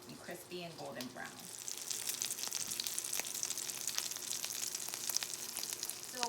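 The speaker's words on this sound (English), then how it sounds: "So while our falafel patties are pan frying," Falafel patties pan frying in oil, a dense, continuous crackling sizzle with fine popping that swells after a brief spoken opening and holds steady, close and moderately loud.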